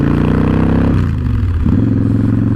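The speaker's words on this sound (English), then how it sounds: "Hopefully the exhaust doesn't overcome the mic" Victory Vegas motorcycle exhaust while riding, a loud steady engine drone whose pitch drops and then climbs again, close up with wind and rumble and no talk.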